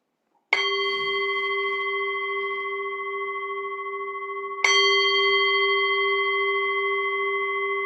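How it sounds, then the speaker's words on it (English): A meditation bell struck twice to open a sitting, each strike a clear ringing tone that sustains and slowly fades, with the second strike following about four seconds after the first, alone in silence. "So I will just ring the bell."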